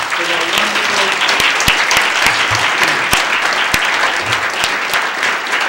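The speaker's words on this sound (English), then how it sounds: "I'd like you to applaud our distinguished visitors for their wonderful." An audience applauds distinguished visitors at a Martin Luther King celebration event, a steady, dense wash of clapping that stays loud and continuous throughout, with a few sharper individual claps standing out.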